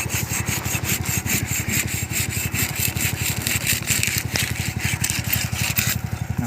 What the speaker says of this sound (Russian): И еще одну пилим